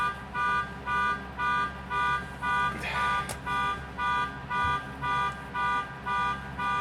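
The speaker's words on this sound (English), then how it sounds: "It's a car alarm." A car alarm beeps in a steady repeating pattern, roughly two pulses a second, heard from a short distance indoors with some faint background noise.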